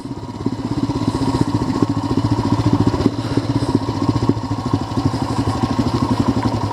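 Royal Enfield Himalayan single-cylinder engine running steadily in gear on a moorland ride, a loud, even thumping pulse close by with no talk.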